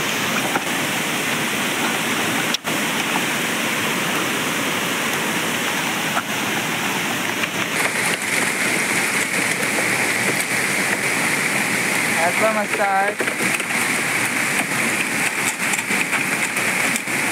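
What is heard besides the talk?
rain falling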